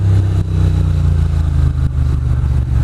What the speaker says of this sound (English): That is an aftermarket exhaust system.